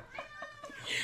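A small kitten meows several times in short mewing calls close to the microphone, with faint voices in the background.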